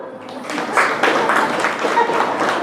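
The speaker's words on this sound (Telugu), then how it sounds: "గట్టిగా చప్పట్లు కొట్టండి" An audience at a spiritual satsang in Hyderabad breaks into dense, steady applause, a continuous rushing patter of many hands that stays strong through the whole moment.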